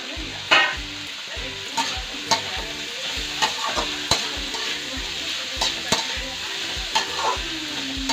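Cabbage and vegetables stir-fried for homemade chowmein, with steady sizzling and a run of sharp spatula scrapes and clinks against the pan, close and fairly loud.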